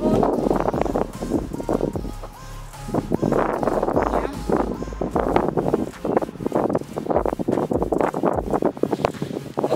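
Wind gusting by the sea on a Greek island in winter, a steady roaring buffet against the microphone that swells and drops in waves across the whole stretch, with faint voices briefly audible beneath it.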